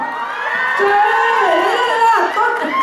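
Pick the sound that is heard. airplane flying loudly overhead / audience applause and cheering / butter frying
audience applause and cheering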